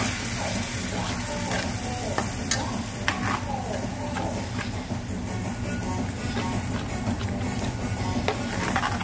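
Chicken curry with coconut milk sizzles in a pan while a utensil stirs it with repeated scrapes and light clicks against the metal, steady and close for several seconds, with a faint voice in the background.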